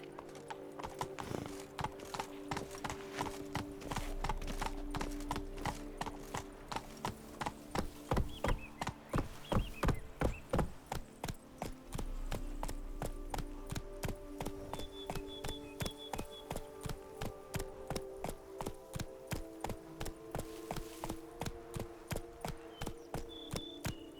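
Horse hooves gallop at a fast, steady rhythm of clip-clops in The Witcher 3 video game. The sound is faint and continuous, and a short whinny may be heard.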